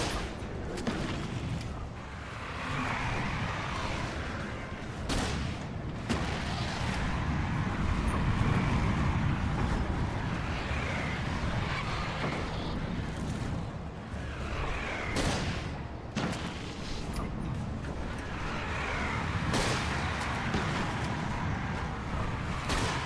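Repeated gunfire and booming shots from the video game Alan Wake, a dense run of cracks and thumps over a constant rumbling game backdrop, loud and sustained with no talking.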